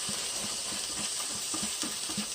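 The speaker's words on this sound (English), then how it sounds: "Just going to kind of saute that for about a minute or so." Rubbed sage and lemon juice sautéing in a pan give off a steady, close hiss of sizzling, with a few soft low thumps underneath.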